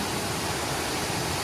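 A river in Olympic National Park rushes past after light rain, making a steady, full wash of flowing water that stays even and unbroken throughout.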